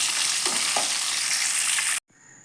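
Paneer fries in a pan with a steady, close hiss and sizzle and a couple of soft stirring knocks, before the sound cuts out abruptly near the end.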